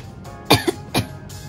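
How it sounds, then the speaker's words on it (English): Two sharp, close coughs from one person, about half a second apart, with a brief throaty catch between them against quiet room tone. "I just coughed on it."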